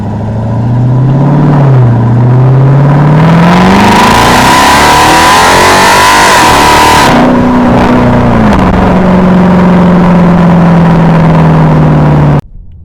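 An SRT Durango 392 SUV's V8 roars loud and close, revving up in a long climb, dropping back, then holding a steady high drone before cutting off abruptly.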